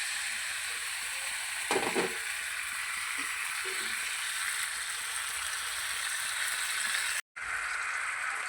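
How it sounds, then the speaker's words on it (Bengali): A spice paste mixed with salt, sugar and tomato sauce, together with chicken, stir-fries in a pan with a steady, close sizzle and a few scraping stirs partway through. "এইবার প্যানে দিয়ে একটু কষিয়ে নেব।"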